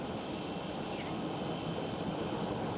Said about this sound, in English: KLM Cityhopper E195 E2 taking off there from runway 18 left.